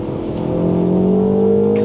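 A Mini Cooper S engine drones steadily and builds in pitch as it accelerates, heard from inside the cabin with a constant road hum.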